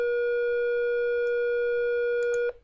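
A synthesized triangle-wave tone with its harmonics plays as a steady, buzzy, unchanging pitch for about two and a half seconds, then cuts off abruptly, with a faint click afterward.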